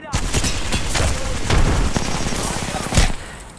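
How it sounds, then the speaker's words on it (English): Sustained gunfire in the Apex Legends video game, loud, dense rapid shots with a few heavier blasts standing out, continuous for several seconds. "Opening fire on the enemy."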